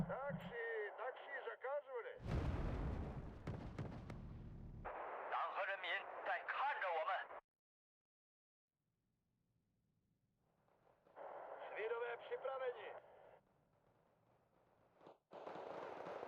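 Gunfire and explosive shooting bursts from the real-time strategy game Wargame: Red Dragon, loud and dense in the middle, with shorter bursts returning later between quieter gaps.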